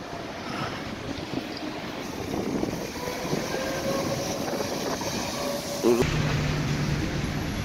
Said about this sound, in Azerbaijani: hər yerdə metro, qatar, avtobus nə istəyirsiniz var